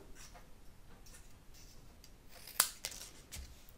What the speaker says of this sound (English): So I'm just going to cut these on an angle